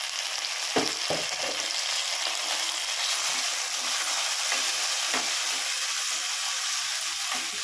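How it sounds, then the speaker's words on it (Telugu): Chopped tomato with a little salt frying in a pan for an Andhra-style okra curry gives a steady, dense hiss throughout, broken by a few short knocks and scrapes early on. Close, with no voices. "5 మినిట్స్ బాగా ఫ్రై చేసుకోవాలి."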